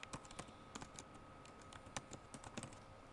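Quiet, close clicking of a computer keyboard as a web address is typed, with irregular keystrokes spaced unevenly across the whole stretch and no voices.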